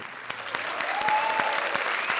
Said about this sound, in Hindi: तालियां वसंत के लिए।